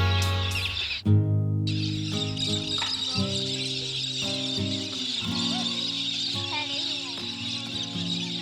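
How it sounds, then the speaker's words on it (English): Galahs call outdoors at a roadside travel stop, a steady run of high chirps and squawks, fairly near and moderately loud, with no talk over them. "Are those the birds that kept you up all night, Dara?"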